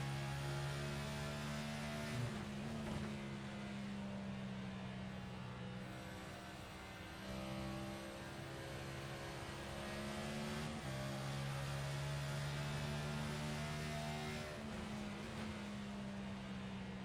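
Race car 51's engine heard from inside the cockpit during a racing series event, a continuous loud droning tone that shifts pitch a few times as the driver changes gears.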